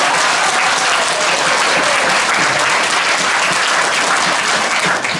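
Studio audience at a televised pre-election debate for Ljubljana mayor applauding, a dense, loud, even burst of clapping that continues steadily to the end.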